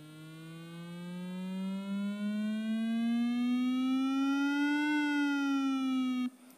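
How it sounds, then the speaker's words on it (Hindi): A phone's speaker-cleaning app plays a single loud, buzzy synthetic tone that slowly rises in pitch for about six seconds, dips slightly near the end, then cuts off abruptly. "यहाँ पे एक ऑप्शन मिलेगा क्लीन स्पीकर, उसके ऊपर क्लिक कर दे, फ़ोन में एक आवाज़ बजेगा"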